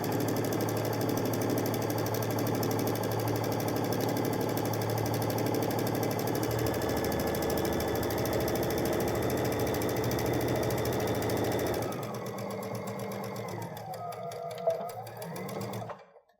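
A sewing machine runs continuously as it stitches drawstring backpack fabric, a fast, even mechanical whir that holds for about twelve seconds, then stops, leaving quieter handling sounds and a brief knock.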